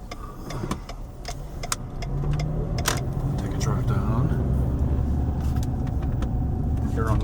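A car drives down a town street in Aliquippa, Pennsylvania, with a steady engine and road rumble building after the first couple of seconds, heard from inside over some light clicking.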